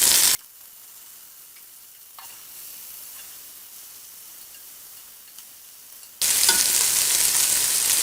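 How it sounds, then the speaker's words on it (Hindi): Green chilies and tomatoes fry in a pan for moti pulao, a steady sizzle that drops to a quieter hiss after a moment, then surges loud again near the end. "इसको हल्का सा फ्राई करने के बाद टमाटर, ये 3 अदर टमाटर भी हमारे जाएंगे।"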